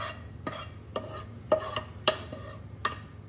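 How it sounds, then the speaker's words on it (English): Garlic and onions fry in oil in a soup pot for pasta fagioli, a low sizzle under repeated sharp scrapes and knocks of a spoon against the pot, close up and without speech. "Straight in, oil, garlic, onions, all of the goodness."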